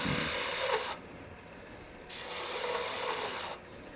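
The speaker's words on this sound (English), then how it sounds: "at this point, you have a disc sander" A homemade disc sander mounted on a lathe sands wood in two bursts of gritty abrasive rasping, each lasting about a second, separated by the lower whir of the spinning disc running free.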